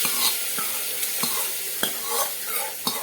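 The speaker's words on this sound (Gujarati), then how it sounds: "હવે આપણે આ જ રીતે બધી વસ્તુને થોડી વાર માટે સાતળી લેવાની છે" Spices and chickpeas sizzle in a hot pan while a spoon stirs and scrapes, giving soft rhythmic knocks over a steady frying hiss.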